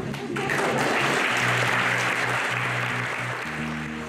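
A cinema audience at a film premiere bursts into sustained, dense applause, loud and close, rising quickly and holding steady before tapering slightly at the end, with no talk over it.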